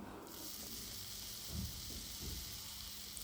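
Steady frying sizzle of onions and tomatoes in a pan, a continuous hiss with a couple of soft stirring bumps, fairly quiet and with no voices.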